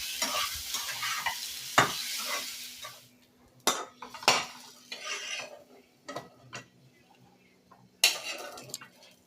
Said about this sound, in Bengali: একটু লবণ আর একটু হলুদ দিয়ে আলুটাকেও ভালো করে ভেজে নেব।